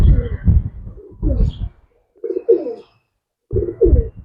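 Pigeons for sale in Bangalore coo loudly and close by. The deep, throaty, rolling calls come in several phrases with short silent gaps between them.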